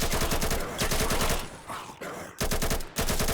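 Rapid bursts of gunfire in the zombie shooter game Battle of Rebels rattle out in several volleys, loud and close, with short pauses between the automatic strings of shots.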